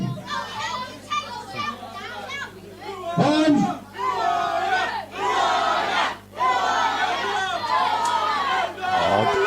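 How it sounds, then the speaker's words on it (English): Rowdy crowd at a small-hall wrestling show in Teynham, England, shouting and jeering at wrestler Steve Manelli; loud overlapping voices and chants, fairly close, with brief dips before the noise swells again. "The Teynham crowd really getting on Steve Manelli."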